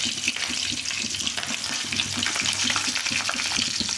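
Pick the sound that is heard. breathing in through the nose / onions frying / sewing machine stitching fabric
onions frying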